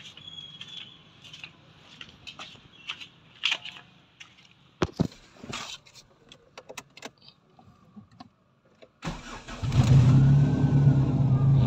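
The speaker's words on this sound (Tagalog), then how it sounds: "Start ko yung sasakyan." A car with an idle that drops and struggles is started after some clicks and handling noises, then settles into a loud, steady, close engine idle over the last few seconds.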